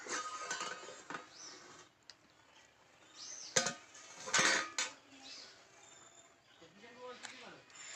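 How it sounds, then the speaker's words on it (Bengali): A metal lid is lifted off a pot of sponge cake cooking on a clay stove. There are several sharp clanks and scrapes with quiet gaps between them, and a person speaks softly in the background. "ঢাকনা খুলে দেখবো কিরকম হয়েছে কেকটা"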